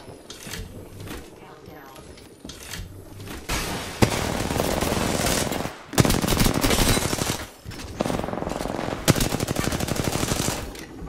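Sustained automatic gunfire in the Apex Legends video game, long dense rattling bursts separated by short pauses, loud and close, with some voice chatter underneath.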